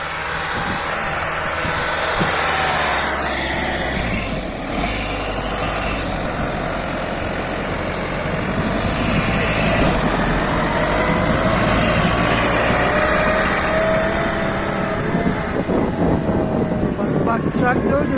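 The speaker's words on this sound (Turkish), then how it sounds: "Traktör bile zor gidiyor Ercan" A steady, low tractor engine drone runs throughout, rumbling and straining as the tractor struggles through snow on a mountain village road, with background talk mixed in.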